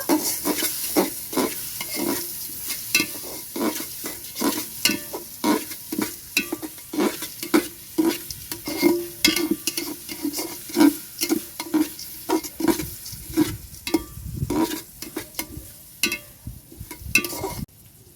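Mung dal and meat are stirred in a frying pot for khichuri, a long run of rhythmic scraping strokes against the metal over a constant sizzle, close and steady, with no talking.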